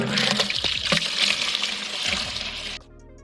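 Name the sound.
maple tree sap poured from bucket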